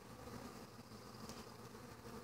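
Honey bees buzz at a backyard hive entrance, a faint, steady, unbroken drone of many wings with no voices.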